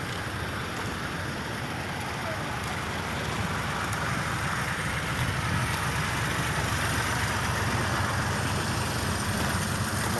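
An air compressor with worn piston rings, struggling to build pressure in a backhoe garage, runs as a loud, steady mechanical drone that holds unbroken for the whole stretch.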